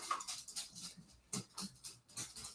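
Dogs in a home whimper and pant in short, soft bursts with small scuffling sounds between them, faint and close, with no voices.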